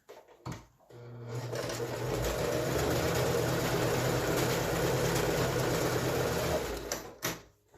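A sewing machine stitches a cloth face mask in one continuous run of about six seconds, its motor whirring evenly, with brief handling clicks before and after.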